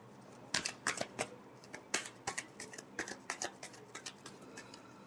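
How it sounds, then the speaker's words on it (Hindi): Tarot cards shuffled by hand in a quiet room, a brisk series of crisp riffling snaps and slaps with irregular rhythm, close and fairly soft, with no talking. "Last shuffle."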